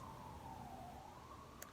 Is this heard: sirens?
yes